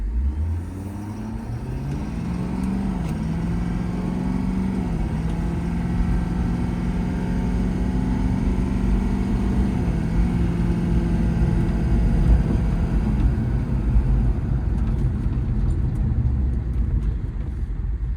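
A 2019 Ford F-550 4x4 service truck engine rises in pitch as it accelerates, then holds a steady drone with road rumble, close and continuous with no talking.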